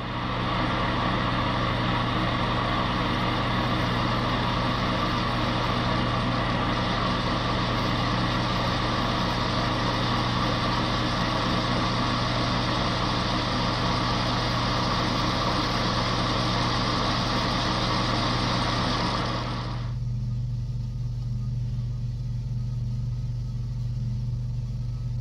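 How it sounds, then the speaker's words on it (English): A metal lathe hogs material from a part for a 1955 Wheel Horse Senior garden tractor with a tool bit, giving a steady loud whirring and cutting noise that stops abruptly near the end, leaving a lower motor hum. "So I got it here chucked up in the lathe. Gonna get a tool bit, get in there and do some hogging."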